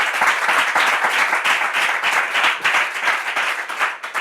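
Steady, dense applause from an audience at a Bible quiz, many hands clapping close and loud throughout with no voices over it.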